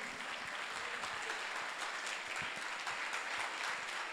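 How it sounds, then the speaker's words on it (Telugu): Audience applause at a National Youth Sunday gathering, a steady wash of many hands clapping, fairly faint and distant throughout. "గట్టిగా చప్పట్లు కొడదాం అందరం."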